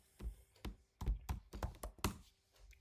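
Keys clack on a computer keyboard in short, uneven bursts of taps, close up and fairly quiet, with pauses between the keystrokes.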